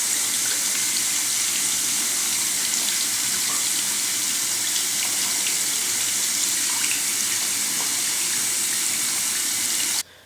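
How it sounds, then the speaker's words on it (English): Hands are rinsed under a steady stream of running tap water, with a loud, continuous rush that lasts about ten seconds before cutting off abruptly. "Always be sure to spend at least 1 full minute rinsing every part of your hands."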